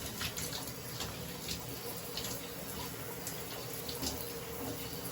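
Tap water runs steadily from a faucet during a hair wash, a constant hissing splash with light droplet spatter throughout.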